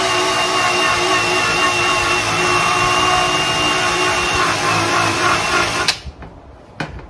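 A power drill whirs loudly and steadily for several seconds while working on a motorcycle front fender extension, then cuts off abruptly, leaving a few faint clicks and knocks.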